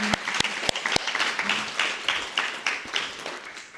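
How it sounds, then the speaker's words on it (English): A crowd at a community celebration for student and community organizing applauds, with a few loud, close claps at the start giving way to a sustained, fairly even round of clapping. "I would love if we could give folks a round of applause for that"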